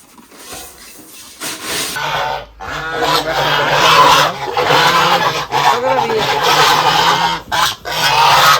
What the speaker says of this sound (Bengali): আমার তো আবার রাজহাঁস আছে